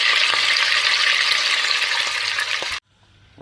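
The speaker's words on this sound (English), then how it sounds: "I'm just going to carry on doing this until I've browned all the meat" Lamb pieces browning in a hot pan make a loud, steady sizzle that holds for nearly three seconds, then cuts off abruptly into near quiet.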